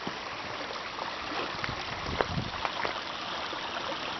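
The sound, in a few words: flowing water stream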